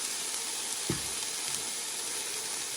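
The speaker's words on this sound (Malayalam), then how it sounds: "ഒരു 2 മിനിറ്റ് ഒന്ന് വഴറ്റിയെടുത്താൽ മതിയാവും" Mixed vegetables with a little salt sauté in a hot pan for chicken soup, giving a loud, steady sizzle throughout, with one brief stir-scrape near the start.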